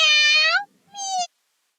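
Two clear, high, tonal meow-like calls, the first longer and the second shorter, separated by a brief pause; a human voice imitates a cat's meow.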